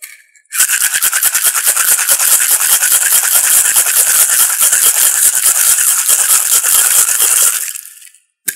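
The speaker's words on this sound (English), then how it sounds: "I'm going to shake this bad boy up." Ice cubes rattle hard in double-sided metal cocktail tins as a whiskey sour is shaken, a loud continuous rapid rhythmic clatter lasting about seven seconds, close and alone, ending abruptly.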